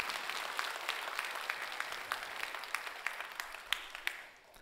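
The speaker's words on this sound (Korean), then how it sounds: "우리 여러분 다시 한번 큰 박수." A church audience applauds during a service, steady dense clapping that fills the space and stays fairly even at moderate volume before tapering off at the end.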